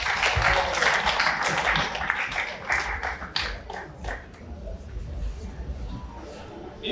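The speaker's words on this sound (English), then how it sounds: "Give him another round of applause." An audience at a formal installation dinner for Lions and Leo club officers applauds, with dense clapping that is loud at first and then thins and fades, while a voice speaks over it.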